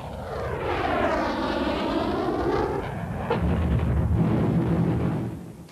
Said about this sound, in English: Today, jet engines take planes faster and higher than propellers ever could.